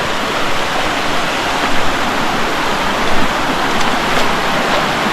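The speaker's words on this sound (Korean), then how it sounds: "폭포 폭포" A waterfall in a mountain valley pours with a loud, steady roar of rushing water, close and unbroken throughout.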